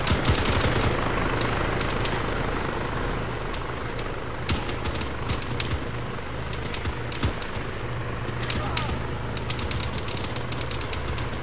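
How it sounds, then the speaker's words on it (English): Gunfire during an aerial vehicle takedown exercise, rapid bursts of automatic shots cracking over a continuous engine rumble, the volleys recurring irregularly at close range throughout. "They're shooting! They're shooting!"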